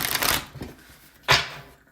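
Tarot cards being shuffled by hand, two quick riffling bursts separated by a short pause, close and crisp with no voices.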